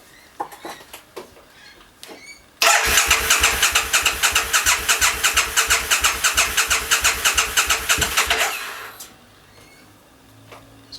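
A custom sissy-bar motorcycle with a flat battery, primed and clutch in, cranks for about six seconds in a rapid, evenly pulsing starter churn that never catches, then falls back to quiet.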